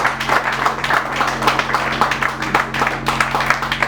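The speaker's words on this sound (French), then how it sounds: "Applaudissons celui." Audience members clap at a political debate in the Democratic Republic of Congo, loud uneven clapping with distinct rhythmic claps over a steady low electrical hum.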